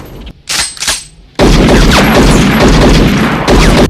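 Gunfire erupts in a film scene, with a few quieter impacts followed by a sudden, loud, sustained barrage of shots and crashing noise.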